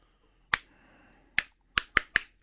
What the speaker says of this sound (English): Oh my God, the clapping is visceral.